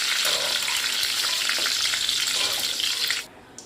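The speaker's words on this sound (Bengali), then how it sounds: "এবার কিশমিশটা খুব সুন্দর ফ্রাই হয়ে গেছে" Raisins fry in hot oil with a loud, dense, close sizzle and bubbling, steady for about three seconds before dropping off abruptly to near quiet as the pan is taken away; no voices.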